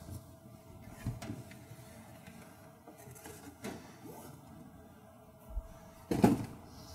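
A 4-gallon water storage tank is slid out of its cardboard box and foam packaging, giving faint scraping and rustling, a few soft bumps, and a louder knock near the end.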